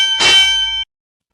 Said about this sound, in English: That obnoxious bell right here.